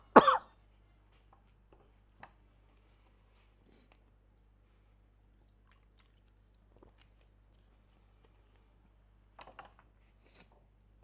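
A single sharp cough or throat clear at the start, close and abrupt, from a teacher with a cold during a maths class, followed by near silence with a few faint clicks and rustles.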